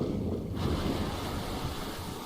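Ocean waves surge and wash with gusting wind in a Nintendo video game trailer, a full, steady rush of surf that swells slightly after a brief quieter start.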